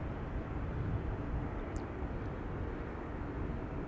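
A jet airliner's engine idles steadily at Amsterdam Schiphol Airport, a continuous broadband roar that holds even and fairly loud throughout, with no talking.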